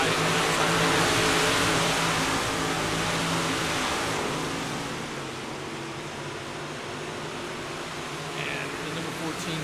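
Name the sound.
race cars racing on dirt track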